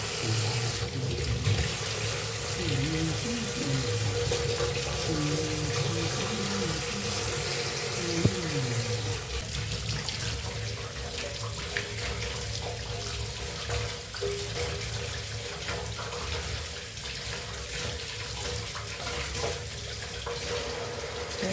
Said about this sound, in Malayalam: എത്ര പൈപ്പിൻ്റെ ചുവട്ടിൽ കഴുകിയാലും